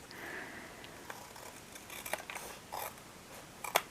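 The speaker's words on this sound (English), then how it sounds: "What I can do now is just cut the excess of the pages. Just gonna grab my scissors to do so." Scissors snipping away the excess pages of a mixed media journal, a few quiet, crisp cuts spaced out over several seconds, close by with no talking.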